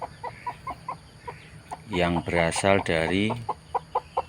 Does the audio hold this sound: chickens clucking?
yes